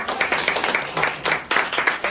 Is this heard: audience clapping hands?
yes